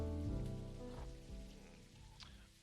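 Rain from the video game Necrobarista patters steadily on a surface, a soft, faint, even hiss of drops beneath tonal game music that fades gradually.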